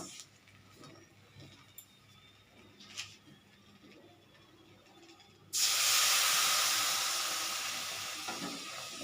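Water is poured into semolina upma in a hot pan, setting off a sudden loud hiss of steam that slowly fades, after a stretch of quiet stirring.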